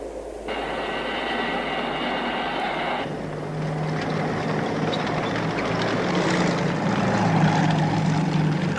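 A vintage 1960s aircraft engine running, a steady droning roar with tonal propeller hum that shifts partway through and builds slightly louder toward the end, with no voices over it.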